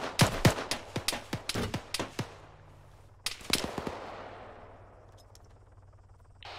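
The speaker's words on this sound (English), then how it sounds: "There's someone shooting at us from that barn or something." Enemy gunfire from a barn in ArmA 3: a rapid run of sharp, loud shots in the first two seconds, then a pause and two more cracks with echoing decay fading away.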